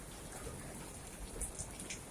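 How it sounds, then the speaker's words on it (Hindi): Rainwater pours and drips steadily from two hanging pots in a garden during heavy rain, a continuous soft patter with a few brighter drip splashes, no voices. "दोनों हैंगिंग पॉट्स में से बारिश का पानी बह रहा है।"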